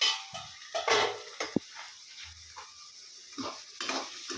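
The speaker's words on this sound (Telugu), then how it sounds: "క్యారెట్ అంతా వేగేసింది కదా" Carrots frying and being stirred in a pan while cooking Yippee noodles, with soft sizzling broken by scraping stirs and a sharp utensil tap against the pan, fairly quiet and close.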